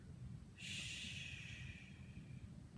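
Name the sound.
child imitating a bear's snore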